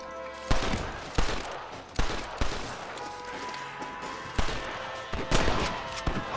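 Gunfire in the Red Dead Redemption video game on Xbox Series X: about eight sharp, loud shots spaced irregularly, some in close pairs, over a steady game ambience.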